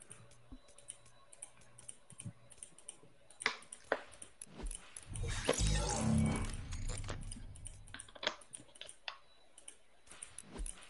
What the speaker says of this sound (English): Why are you clicking so much?